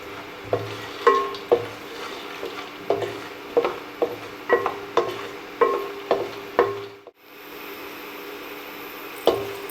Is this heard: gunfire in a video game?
no